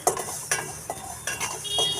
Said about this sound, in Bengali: কালো সরষা ভাজার জন্য কড়াইতে দিয়ে দিয়েছে খন্তা দিয়ে নাড়াচাড়া করে দিচ্ছে